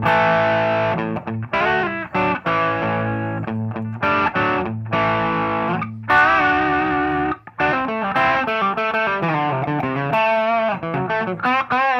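A 2014 Gibson Les Paul Traditional Pro II with Floyd Rose plays chords and riffs with mild crunchy distortion, steady and loud, notes ringing with short gaps between phrases.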